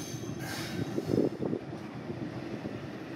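A Bhanga–Chandana commuter train at Shibchar station, Madaripur, rumbles past nearby, with rolling wheel noise, a brief squeal, and steady mechanical clatter.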